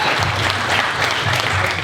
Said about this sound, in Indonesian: Aplaus buat saya.